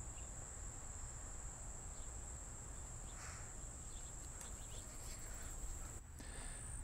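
Field crickets, with a scattering of striped ground crickets and bush crickets, chirp in a dense, continuous high trill that holds steady throughout over a low outdoor rumble.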